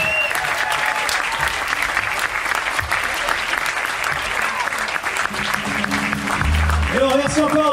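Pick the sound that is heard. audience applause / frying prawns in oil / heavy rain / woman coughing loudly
audience applause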